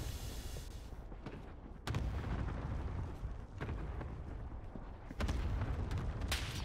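Gunfire and explosions in the video game Warzone Resurgence, a dense, steady roar of booms and bursts, with heavier blasts at intervals and no clear talking.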